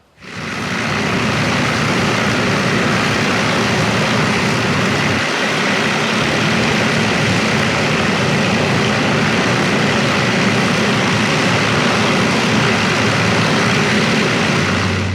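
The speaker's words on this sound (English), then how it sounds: "you can probably hear the noise of the Just Jane Lancaster they have here at East Kirkby. Fired it up and they're running it around, kind of taxiing" Avro Lancaster bomber 'Just Jane' taxiing at RAF East Kirkby with its piston engines running, a loud, steady, continuous droning roar that holds at constant level throughout.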